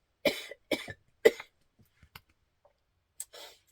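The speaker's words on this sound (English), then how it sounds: "it's kind of making me cough" Three sharp close coughs in quick succession from allergies after taking Flonase, followed by quiet throat sounds and a final short cough.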